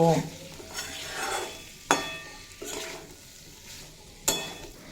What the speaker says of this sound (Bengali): এবার এড করে দেব ভেজে রাখা আলু আর পেঁপে দিয়ে দুই তিন মিনিট মতো কষিয়ে নেব